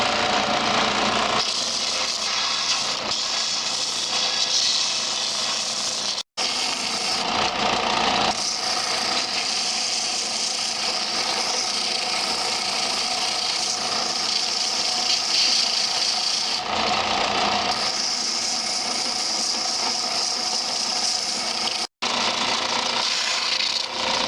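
Hand sanding a wooden Mazda3 gearshift handle: continuous close rasping and rubbing strokes with a steady scratchy texture, broken by a couple of very brief pauses, alone without talk.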